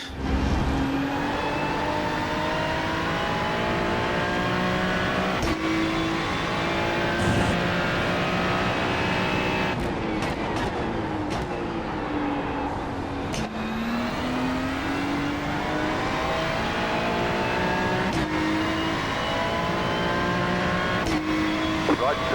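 A race car running laps on a track, heard close from onboard, its engine droning loudly and without a break as the pitch climbs and drops through gear changes and corners.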